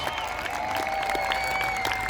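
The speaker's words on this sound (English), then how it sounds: "let's have a big cheer for the RAF Falcons as they approach the ground" A crowd at an air festival cheers and applauds the RAF Falcons parachute team, with steady distant clapping and cheering blended with a droning tone throughout.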